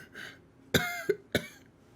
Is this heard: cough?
yes